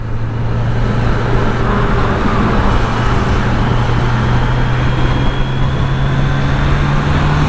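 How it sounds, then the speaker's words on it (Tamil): Steady road traffic near Chennai on wet roads after rain, a continuous even roar and rumble with a low engine drone throughout and no distinct passing vehicles. "6:30 ஆனால கொஞ்சம் டிராஃபிக் இருக்குது"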